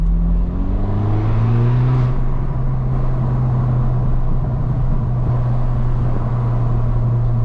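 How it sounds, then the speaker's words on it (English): Straight-piped BMW 1 Series accelerating in sport mode, its engine note rising steadily through a gear from inside the cabin, loud and continuous, with faint crackle hidden under the drone. "I don't know if you can hear them crackles, but it's crackling already."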